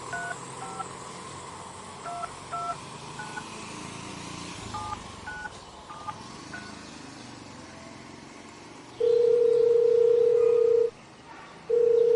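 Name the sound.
telephone number being dialed on a phone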